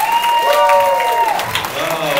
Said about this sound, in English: Please give another round of applause for all the comedians and your hosts.